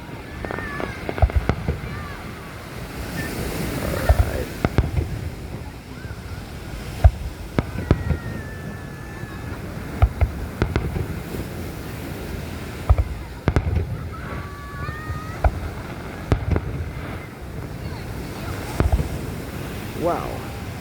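Fireworks at a Long Beach, New York display, bursts and crackles popping at uneven intervals at a distance, over steady wind noise and surf, with crowd voices talking throughout and a few whistling rockets rising.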